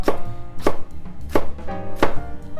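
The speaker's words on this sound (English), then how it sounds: "So we've cut this pepper in half, taken the seeds out." A knife chops long biryani-style peppers on a board, halved and seeded, for restaurant-style Bombay potatoes; four sharp, evenly spaced chops land close up with kitchen background hum between them.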